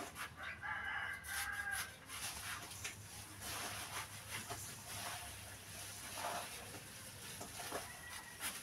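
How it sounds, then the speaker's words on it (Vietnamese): Tam Hoang chickens clucking in a flock, with a rooster crowing once early on, heard at moderate distance over a busy, hissy outdoor background. "anh xuống coi bầy gà nó hết hồn luôn kìa"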